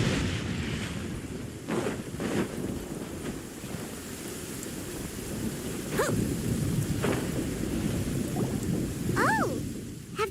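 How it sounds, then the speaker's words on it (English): Steady thunderstorm in Genshin Impact's Sumeru: dense, continuous rain hiss with low rumbling thunder throughout, a couple of brief tonal chirps cutting through near the end, no talking. "Where is the storm headed?"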